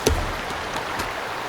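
A river flows in the survival game Sons Of The Forest, a steady broadband rush of water with a soft thump near the start, moderately loud and continuous, with no voices.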